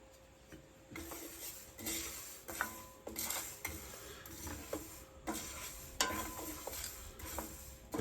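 Black peppercorns and mustard seeds are stirred in a pan for pastrami spices, a close run of scraping, rattling spoon strokes and light clinks against the pan over a faint sizzle.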